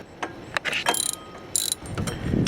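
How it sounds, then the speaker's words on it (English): A ratchet working on the 12mm power steering pump bolts of a Honda, several quick close clicking bursts of the pawl with short gaps between them. "to loosen the power steering bolts, there's two 12mm bolts"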